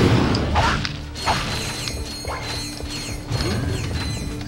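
In Ratchet and Clank: Going Commando, an elevator mechanism grinds and ratchets with repeated clanks, creaks and whooshing movement over a low mechanical hum, moderately loud with no voices.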